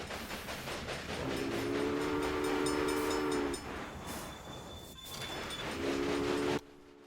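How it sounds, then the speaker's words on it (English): Train from the video game Railway Empire running along its track, a steady loud rumble with a sustained two-tone horn blowing for a few seconds, dropping briefly, then sounding again before cutting off abruptly. "There's our little train."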